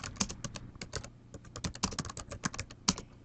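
A computer keyboard is tapped in quick, uneven bursts of crisp keystrokes as text is typed, close and clear with short pauses between runs.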